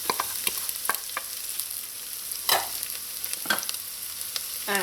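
Thyme, scallions and celery go into soft onions in a pot, sizzling steadily as a spoon stirs them, with scattered scraping clicks close by and no talking.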